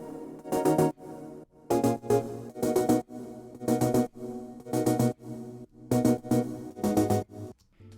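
Chopped, syncopated synth chords from a Serum Stir Up preset play alone in short, rhythmic stabs, with gaps between the clustered bursts.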